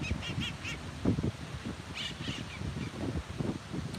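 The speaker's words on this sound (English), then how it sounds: "have some parrots flapping by." Parrots flying past overhead in San Diego, giving a series of squawking calls in short bursts at moderate distance over a steady outdoor background.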